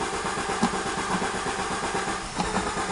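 Renault 25 V6 Turbo engine with a starting fault cranking and struggling to catch, a steady mechanical churn with faint rhythmic pulses and a brief surge near the end, close and fairly loud, no talk.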